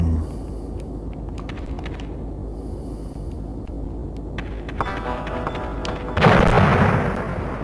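A remote-detonated grenade blasts apart a wooden plank in the Duke Nukem video game, a single loud broadband boom near the end that follows quieter ambient game sounds and small clicks.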